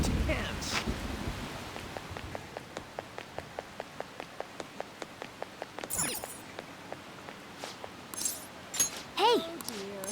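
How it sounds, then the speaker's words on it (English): Rain in the video game Persona 5 Royal, a steady run of regular pattering ticks at moderate level, with brief voice sounds and other game effects breaking in near the start and end. "This rain is intense."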